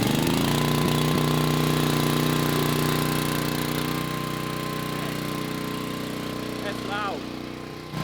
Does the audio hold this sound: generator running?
yes